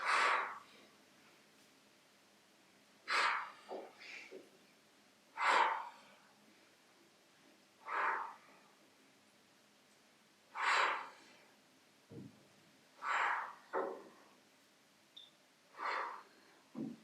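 Deep exercise breathing during a back and abs workout, slow audible inhales and exhales recurring every couple of seconds, close and soft with near-silence between breaths.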